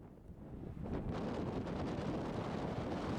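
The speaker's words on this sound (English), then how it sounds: "There's something really invigorating about a fresh sea breeze" Strong sea wind buffets the microphone on a coastal cliff at Kåseberga near the Ales Stenar stone ship in Sweden, a steady broadband roar that swells after the first second and stays loud throughout, with no talk.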